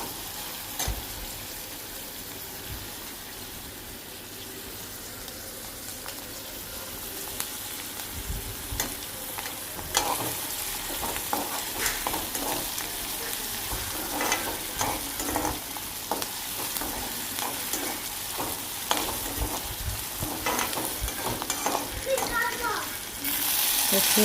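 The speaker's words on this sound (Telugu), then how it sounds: "ఆయిల్ వేడయ్యాక దాంట్లో మనం కట్ చేసుకున్న ఆనియన్ వేసి కొంచెం ఫ్రై చేసుకోవాలండి" Chopped onion frying in hot oil in a pan, a steady sizzling hiss with scattered stirring clatter, growing busier and louder toward the end; faint voices come and go in the background.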